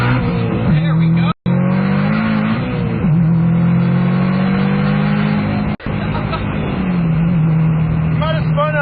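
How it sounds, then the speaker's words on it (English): A car drives hard through a corner, its engine revving steadily while the tires spin and squeal with brief skids, close and loud, with people talking over it. "Might have spun a few tires there"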